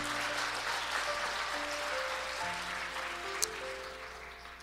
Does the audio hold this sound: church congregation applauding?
yes